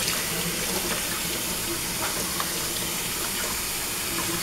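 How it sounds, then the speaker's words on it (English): Running water rinses a small Yorkie terrier during a home bath, a steady, even gush like a tap or sprayer flowing continuously at close range with no pauses. "Once you're done with that, we do the rinse."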